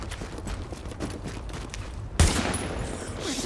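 A close, loud shotgun blast in Tom Clancy's The Division rings out abruptly partway through, following a stretch of rumbling, crackling combat ambience.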